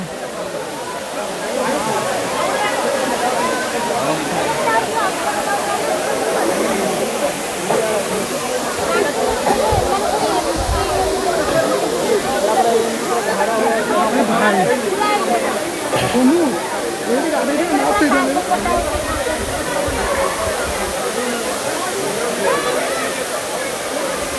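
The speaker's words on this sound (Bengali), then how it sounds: "এই হলো জলধারা আর এইভাবে জলটা পড়ছে" Water pours continuously at Baraghaghra waterfall in Odisha, a loud, dense, steady rush close by, with voices faintly mixed into the roar.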